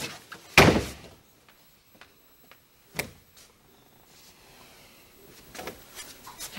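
An office door shuts with one loud, sharp slam near the start, followed by a softer thunk a few seconds later and faint shuffling sounds in a quiet room.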